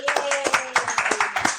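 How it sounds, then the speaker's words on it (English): A live audience claps at a sheriff's livestreamed talk, giving a short, close burst of scattered hand claps at an uneven rhythm. "In fact, a round of applause for Bill Asaley."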